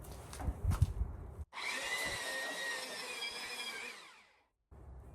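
A power grinder works on a boat's bottom frames during fairing, one sustained high whining stretch of about three seconds after some knocking handling sounds, then cutting off abruptly.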